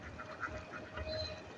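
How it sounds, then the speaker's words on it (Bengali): Ducks on a farm flock of around 600 quacking as they finish eating their feed, a busy overlapping chorus of calls at moderate level with steady background noise and no talk. "এই তো কেবল হাঁসে খাবার দিলাম, হাঁসে খাওয়া শেষ হচ্ছে"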